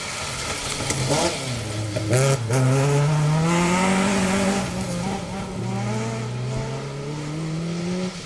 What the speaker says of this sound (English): Stephen Benton, Ollie Benton first up in that 2-litre Mark II Escort. And being hunted down by Colin Griffiths